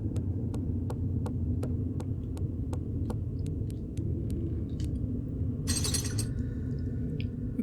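Glass shatters in a brief, bright burst in the Tomb Raider Level Editor game, set against a steady low hum and a regular series of sharp ticking clicks.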